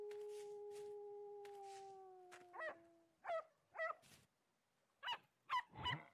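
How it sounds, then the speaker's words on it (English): A wolf howls in the survival video game Vintage Story: two long, steady, gently falling tones, then a series of shorter wavering yelps and yips, heard faint and somewhat distant with no speech. "Can you hear the wolf to my right?"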